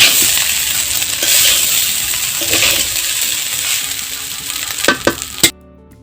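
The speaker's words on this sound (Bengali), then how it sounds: "এখন আমি এর মধ্যে ভাতগুলো দিয়ে ভাতের সাথে সবগুলো উপকরণ কিছুক্ষণ ভালোভাবে মিশিয়ে নিব" Leftover cooked rice fries and gets mixed with other ingredients in a hot pan. Loud, continuous sizzling runs under repeated scraping of the spatula, ending with a few sharp metallic clinks before sudden quiet.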